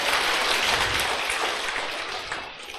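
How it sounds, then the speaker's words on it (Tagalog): A church congregation claps together in praise of God, a dense, steady wash of applause at an Ilocano preaching service that holds strong and then fades slightly toward the end. "Palakpak ka na po Diyos."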